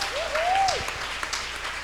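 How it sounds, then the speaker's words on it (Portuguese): Congregation clapping during a women's church service, a dense wash of applause with a rising and falling vocal exclamation riding over it near the start. "aplauda Jesus"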